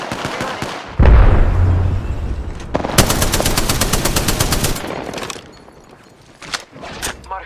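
Apex Legends combat: a heavy close blast opens, followed by a dense, rapid stream of automatic gunfire lasting about two seconds, then scattered fainter shots and clicks as the firing stops.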